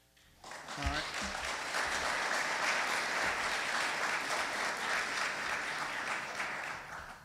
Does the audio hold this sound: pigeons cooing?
no